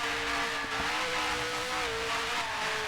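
Formula 1 car engine from a racing video game at Zandvoort, held at a steady high drone with slight pitch shifts as revs drop, loud and continuous without talk.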